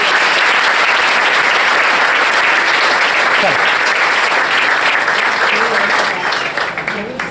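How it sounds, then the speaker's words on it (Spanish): Church congregation at a Sunday school service in Chinú bursts into sustained, dense applause, loud and steady throughout before tapering off near the end. "La iglesia le da un aplauso"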